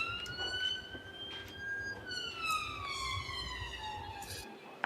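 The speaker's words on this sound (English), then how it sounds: "What is the sound of a Bratislavan ambulance?" An ambulance siren in Bratislava wails from a distance, its steady tone sliding slowly downward and fading faintly under low street noise.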